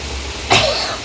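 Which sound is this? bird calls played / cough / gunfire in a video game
cough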